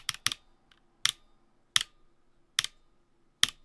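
Keys on a GMMK Pro keyboard fitted with lubed Glorious Panda tactile switches are pressed one at a time, giving six or seven sharp, close clacks spaced with short pauses in a quiet room.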